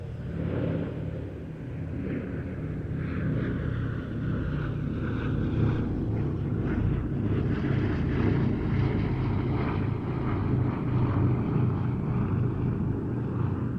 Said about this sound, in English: the participation of B-17G Flying Fortress Sally B is always a given